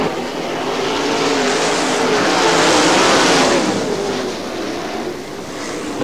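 410 sprint race cars racing at Butler Motor Speedway in Quincy, a loud continuous engine roar that swells to a peak mid-clip as the pack passes, then eases slightly, with no talk.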